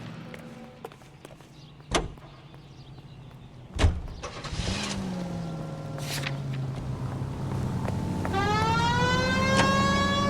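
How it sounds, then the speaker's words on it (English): In the video game L.A. Noire, after a couple of door thumps and an engine starting, a wailing police siren rises and sweeps repeatedly over a running car engine toward the end. "We have a siren."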